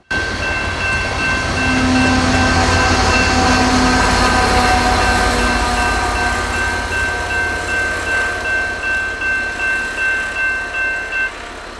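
A loud BNSF freight train rolls past close by in winter at Galesburg, Illinois, a heavy locomotive roar with steady tonal hum, then rhythmic clacking of wheels over rail joints as cars follow.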